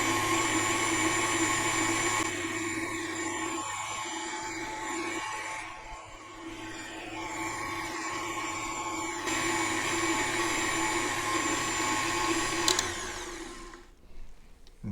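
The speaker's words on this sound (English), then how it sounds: "We're just gonna keep blending, blending, blending until we get that butter start to pull out." A kitchen blender whipping cream into butter, a steady loud motor whine and churn running continuously with slight shifts in pitch, then cutting off near the end.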